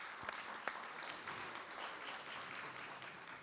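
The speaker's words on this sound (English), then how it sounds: "Let's give these folks a round of applause and appreciation." Soft, sustained applause from an audience at a county commission and state house candidate forum, distant and even, with a few sharper individual claps standing out near the start.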